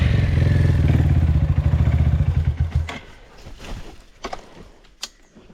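Off-road enduro motorcycle on a hard trail, its engine chugging loudly for about three seconds and then cutting out, followed by quieter clanks and thumps of handling the bike nearby.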